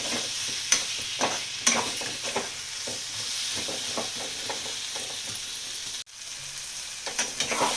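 Potatoes sautéing in a little oil for an aubergine and potato curry, continuous sizzling with scattered stirring scrapes, close by; the sizzle briefly dips near the end and then resumes.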